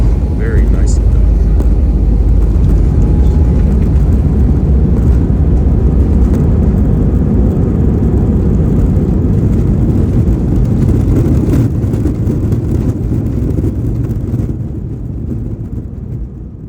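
Steady loud engine roar heard from inside the cabin of a jetBlue Airbus A320 taxiing at Los Angeles International Airport, a continuous low rumble that eases slightly toward the end.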